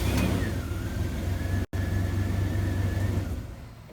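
1997-2004 Dodge Dakota pickup engine idling after a push-button keyless start, a steady low rumble nearby with a brief dropout partway through, fading slightly toward the end, no speech.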